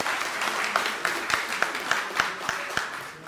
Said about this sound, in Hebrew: מגיע להם כפיים מכולנו ותודה רבה